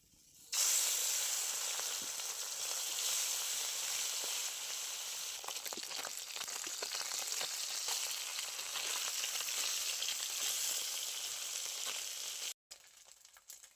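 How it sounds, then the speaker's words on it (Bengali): Small mourala fish frying in very hot mustard oil in a wok: a loud, steady, close sizzle that starts abruptly and holds evenly for about twelve seconds before cutting off, with no talking. "এবার আমি মাছটা ভেজে নেব।"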